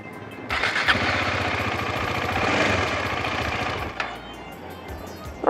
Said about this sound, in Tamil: வண்டி ஆஃப் ஆகுது பெட்ரோல் இல்லையாடா